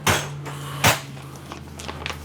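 Entry door of a 2024 Puma 29BHSQ travel trailer opening, giving two sharp close clatters followed by softer rattles and light knocks, with a steady low hum underneath.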